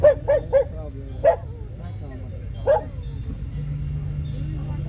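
Several sharp dog barks and yips burst out close by in a quick cluster, then one more bark after a pause, at an outdoor Fourth of July classic car show in Wamego, with a low crowd murmur and engine rumble underneath.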